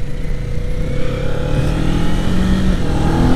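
A 2025 Kawasaki Z500 motorcycle being ridden on the road, its engine droning steadily and rising slightly in pitch as it accelerates, with continuous wind and road noise and no talking.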